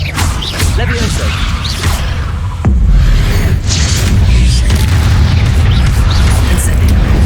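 The Levioso levitation spell is cast in Hogwarts Legacy, a loud magical boom with a whooshing burst around the three-second mark, followed by continued dense game effects and rumbling.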